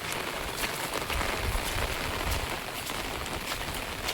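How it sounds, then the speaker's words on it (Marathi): Steady heavy rain with wind in Konkan, a dense continuous hiss of drops striking surfaces, loud and close throughout with no voices. "मस्त पाऊस वारो आणि कोकण एकदम खतरनाक कॉम्बिनेशन"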